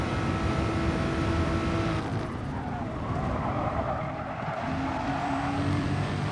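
Race car engine and tyres working through the tricky Le Mans corner at St. Croix in a racing video game, a steady loud roar with shifting pitch and a brief scrub of understeer, no talk.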